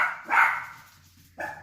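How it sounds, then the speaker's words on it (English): Dogs barking nearby: two loud, sharp barks separated by a short pause, alone over a faint low hum. "Dogs."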